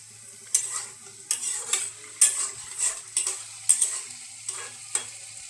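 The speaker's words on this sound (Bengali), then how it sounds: "জল দিয়ে আবারও কষিয়ে নেব, কারণ রান্নার স্বাদ হয় কষানোতে।" Soy chunks and chickpea mix stirred and frying in a pan with added water, a spatula scraping in repeated strokes about every second over a steady soft sizzle, close and clear with no talk.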